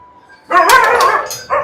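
Kombai dogs kept in separate kennel cages at a dog farm bark and yelp loudly up close, one long burst of barking followed by a short second bark.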